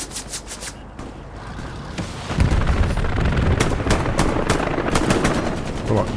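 Machine-gun and rifle fire rattle in sharp repeated bursts during a tank battle in the video game Hell Let Loose, with heavier booming under dense shooting in the second half and a player's voice in the mix.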